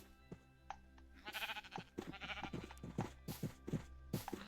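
Sheep in a Minecraft game bleating repeatedly in short, irregular calls, fairly close and clear over faint background tones, with no talk.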